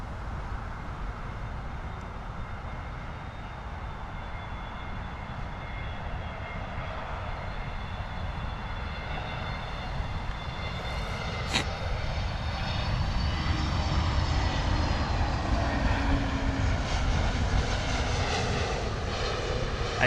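A British Airways Airbus A321neo landing from Cairo roars as it passes. The jet noise builds steadily and grows louder toward the end, with a whining engine tone over broadband rumble and no talk.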